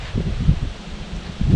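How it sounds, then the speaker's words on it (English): Wind gusts buffet the microphone outdoors on a cold, snowy-season day in the upper Midwest, giving low rumbling puffs and rustling bursts over a brief stretch with no speech. "Sorry about the wind. It's a cold day here today."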